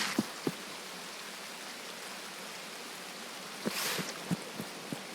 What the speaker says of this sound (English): I hate the rain in this game.